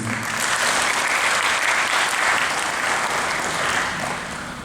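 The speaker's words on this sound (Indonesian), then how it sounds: "Berikan tepuk tangan untuk kita semua." Sustained audience applause at a Hari Santri 2024 gathering, a dense, steady wash of clapping from a large crowd that holds evenly for several seconds before easing slightly at the end, with no speech over it.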